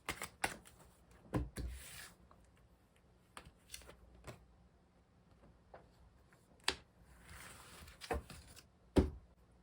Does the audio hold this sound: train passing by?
no